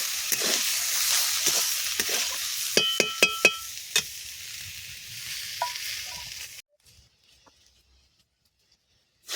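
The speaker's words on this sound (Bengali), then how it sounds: "সবজিটা ভাজা হয়ে গেছে, এবার তুলে নিচ্ছি।" Vegetables frying in a pan in a village kitchen give a soft sizzle with sharp spatula taps and scrapes. The sound stops abruptly as they are lifted out, leaving near silence.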